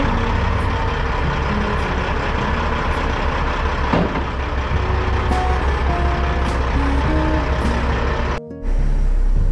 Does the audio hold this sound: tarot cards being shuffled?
no